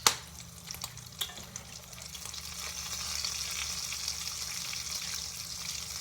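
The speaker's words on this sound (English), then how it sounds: "I'm using a fork to flip the bacon, because there's another piece that is done." Bacon sizzling in a pan for BLTs, an opening sharp clack as a fork flips a strip, a couple of lighter taps, then a steady soft crackling hiss that builds slightly and continues; no talking.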